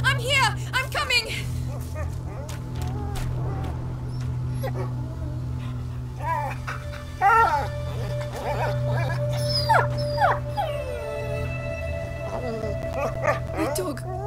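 Dog yelping, whimpering and howling in the medieval stealth-adventure game A Plague Tale: Innocence, a series of sharp cries and a drawn-out howl over a steady low in-game drone, with voices in the scene.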